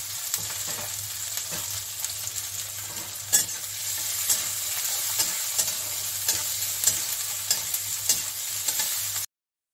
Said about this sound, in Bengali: এখন একটু ভাজা ভাজা হতে আমি দিয়ে দিচ্ছি এখানে পেঁয়াজ, কুচনো পেঁয়াজ